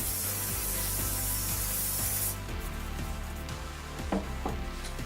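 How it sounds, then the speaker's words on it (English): A continuous hiss of a hair shine spray for about two seconds, close by, then stopping, followed by soft rubbing and handling sounds. "The very last product I'm going to use is a spray shine."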